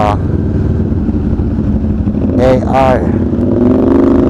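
An SR 450 motorcycle with an aftermarket muffler idles and revs close by, a steady low engine drone that rises with two brief throttle blips, while someone talks over it in traffic.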